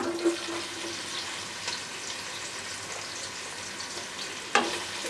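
Cumin and onion frying in hot oil give a steady, close hiss of sizzling that runs throughout, broken by a few louder pops and a sharp crackle near the end.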